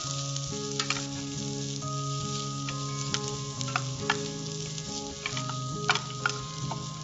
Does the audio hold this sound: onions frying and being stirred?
yes